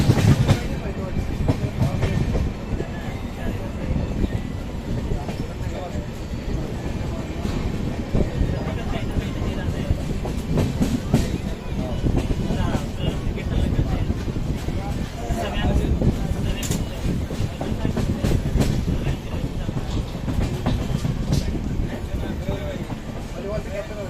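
The 12219 LTT–Secunderabad Duronto rolls into Vikarabad Junction with a continuous loud rumble and clickety-clack of wheels over rail joints, steady throughout and heard from on board.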